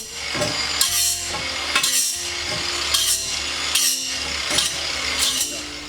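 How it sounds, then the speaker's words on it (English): Grinder working the sharp cut ends of metal tubing for a teardrop trailer build, rhythmic bursts of harsh grinding repeating roughly every second over a steady motor hum, close and loud. "The reason I'm grinding these ends every time I cut them is because they're sharp."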